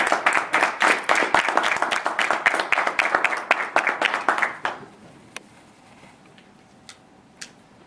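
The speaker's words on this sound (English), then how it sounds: "let's give them a round of applause" An audience claps for panelists at a panel event, dense applause for about five seconds that abruptly stops, followed by a few scattered late claps in a quiet room.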